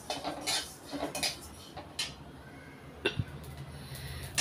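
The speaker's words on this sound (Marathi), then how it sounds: "आता याच्यामध्ये जिरे टाकत आहे, 1 वाटी. जिरे भाजून घेते." Cumin seeds dry-roasting in a pan, with a spatula scraping and clinking against the metal in irregular bursts, fairly close and quiet, with no talking.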